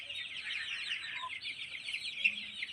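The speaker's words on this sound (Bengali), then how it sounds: "দেখুন কি সুন্দর কিউটি মুরগিটা।" A hen settling into her laying spot on a small farm gives soft, continuous clucking and murmuring, faint but close, over a quiet background.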